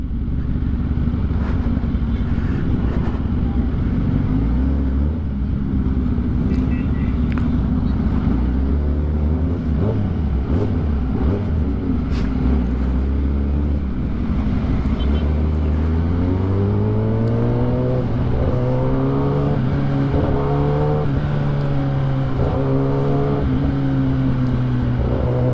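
Dense car traffic on the way to a cars-and-coffee meet, with loud continuous engine drone from nearby vehicles and shifting revs rising and falling, plus scattered clicks and knocks.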